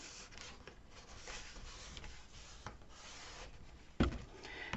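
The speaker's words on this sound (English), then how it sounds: "I'm going to burnish it down really well." Paper is rubbed firmly down onto a shadow box base, a soft, steady scraping with faint strokes throughout and a sharper knock near the end.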